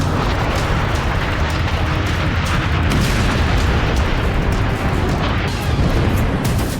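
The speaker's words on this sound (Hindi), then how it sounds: "बम और गोले दागे जा रहे हैं" Dense, continuous war sound effect of missile and bomb explosions, a loud rumbling wall of booms and blasts filling the whole stretch without pause, with no talking.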